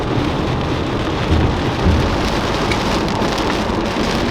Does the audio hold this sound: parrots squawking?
no